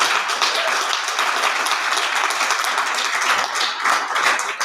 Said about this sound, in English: Let's have a round of applause for everybody who helped do that.